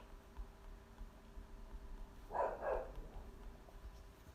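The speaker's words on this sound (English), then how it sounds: "We got Doyle barking already." Two quick barks from a dog, faint and somewhat distant, stand out briefly against a quiet hum.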